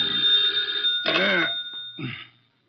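In an old-time radio drama, a telephone bell rings in two clear bursts, close and loud, then stops into silence.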